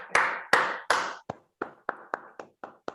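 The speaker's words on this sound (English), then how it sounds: "A big round of applause, please." Applause at a Toastmasters club meeting in Bangalore: a handful of sharp, close hand-claps, three heavy ones followed by lighter claps in a steady rhythm, with quiet gaps between.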